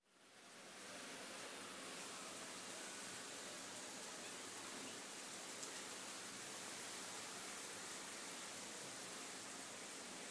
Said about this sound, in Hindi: आपने देख लिया क्लिप कितनी तूफ़ानी बारिश थी